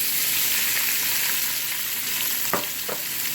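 Cumin seeds fry in hot oil with a loud, continuous hiss, and near the end two brief scrapes of a spoon or pan cut through the sizzle.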